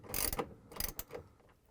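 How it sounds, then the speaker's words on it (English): A 3/8-inch socket wrench ratchets while tightening a bolt on a GE washer mode shifter, giving a few quick bursts of close, dry clicking separated by short pauses. "I'm going to grab my 3/8 socket wrench and we're going to turn it, so I'm going to tighten that bolt"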